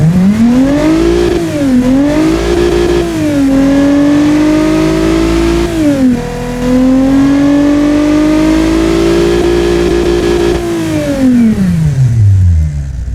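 A DMC DeLorean V6 engine in the Automation game revs hard toward 7,000 RPM, loud and close, climbing and falling in several sustained pulls before the pitch drops away at the end.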